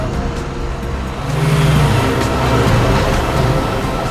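A car drives past on a road during a police chase, its engine rumbling steadily and swelling slightly louder midway as it passes close by.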